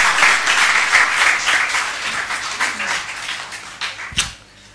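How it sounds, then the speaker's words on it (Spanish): An audience at a science talk applauds a volunteer coming up, a lively burst of clapping that thins out over a few seconds and ends with a sharp tap. "dale un aplauso ya que viene."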